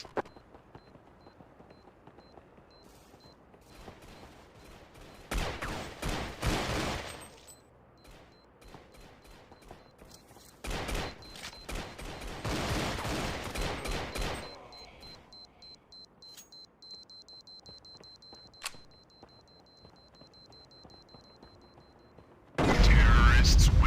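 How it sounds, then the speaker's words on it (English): Bursts of gunfire in Counter-Strike on Xbox come in two clusters, moderately loud against quiet game ambience, with electronic beeps and brief radio-style voice callouts between them. "Taking fire. Need assistance."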